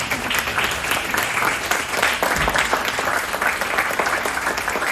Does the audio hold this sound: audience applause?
yes